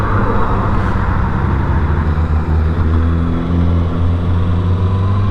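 A 2025 Kawasaki ZX-6R motorcycle cruising on an open freeway, its engine a loud, steady close-up drone layered with constant wind rush, with no talking.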